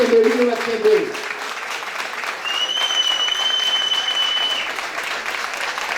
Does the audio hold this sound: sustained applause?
yes